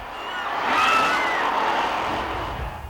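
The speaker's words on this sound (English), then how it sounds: "and now the most exciting event of all, monster truck racing." Monster truck engines roar at a racing event, a broad, loud wash of engine noise that swells to a peak near the middle and holds steady with crowd-like din throughout.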